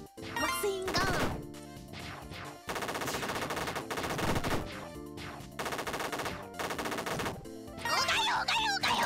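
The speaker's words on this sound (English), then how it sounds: "Machine gun." Rapid machine gun fire from the video game Vampire Survivors, loud bursts of clattering shots over game music and effects, with a short gap partway through.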